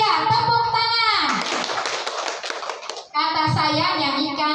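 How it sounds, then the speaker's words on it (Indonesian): A group of children in a classroom clap their hands together on command, a dense burst of clapping lasting about two seconds, with children's voices speaking and singing before and after it. "Kata saya, tepuk tangan."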